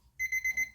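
A kitchen timer alarm beeping at a craft table, four quick bright electronic beeps in a close, loud burst.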